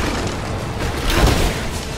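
Explosions in the video game Rise of the Tomb Raider, a steady rumbling boom with a stronger burst about midway, loud and dense throughout the short stretch.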